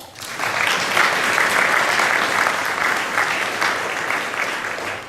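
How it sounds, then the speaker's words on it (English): An audience at an awards ceremony breaks into steady applause, a dense wash of clapping that starts abruptly, holds for about five seconds and fades at the end. "Round of applause."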